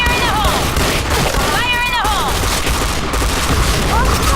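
Loud video game combat with a grenade explosion and bursts of gunfire, dense and continuous booms and shots, with a voice shouting over the action.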